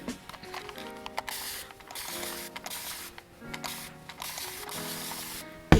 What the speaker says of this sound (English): I'm also gonna spray the top of my hair and brush it down